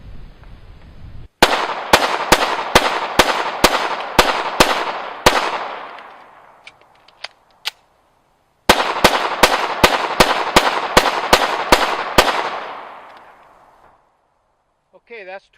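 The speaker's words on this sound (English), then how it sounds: "But we went through 20 rounds, no malfunctions." Twenty rounds of semi-automatic gunfire aimed at an FBI QIT target, loud sharp shots in two fast volleys of about ten each, separated by a short pause.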